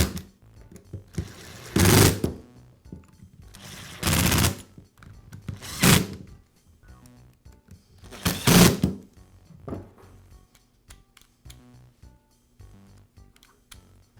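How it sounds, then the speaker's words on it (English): A screwdriver fastens the housing of a Dremel rotary tool back together: a handful of separate bursts of rapid ratcheting clicks, each lasting under a second, close and fairly loud, divided by quiet pauses and faint handling knocks. "I'll secure it with the screws."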